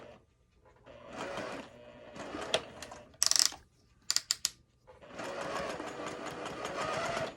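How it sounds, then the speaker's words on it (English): A sewing machine stitches a quilted Christmas table topper in close, steady runs, starting and stopping, with a few sharp clicks and taps between bursts of stitching. "I'll sew it right to the very end."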